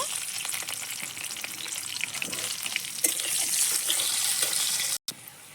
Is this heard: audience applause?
no